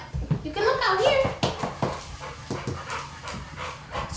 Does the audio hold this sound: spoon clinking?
no